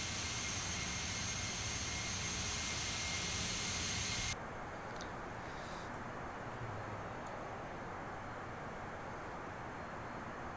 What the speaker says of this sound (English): Just a beautiful aircraft flying over Arizona right now